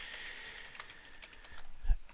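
Keys tapped on a computer keyboard while typing code, a quiet run of scattered soft clicks with a slightly louder thump near the end, no voices.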